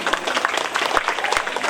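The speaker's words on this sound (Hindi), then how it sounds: "एक बार जोरदार तालियां काली मैया के लिए।" An audience at a Hindu religious jagran honouring Kali Maiya claps loudly in dense, continuous applause, a full crowd sound close and steady for a short burst.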